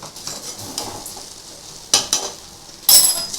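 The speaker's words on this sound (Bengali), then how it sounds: "এটা কিন্তু একটু গ্যাস কমিয়ে কমিয়ে নাড়লে আস্তে আস্তে কিন্তু এটা ঝরঝরে হয়ে যাবে।" Mixed fried rice is stirred in a pan over a low gas flame, with soft scraping and a quiet sizzle, plus a few sharp metallic clinks of the utensil against the pan.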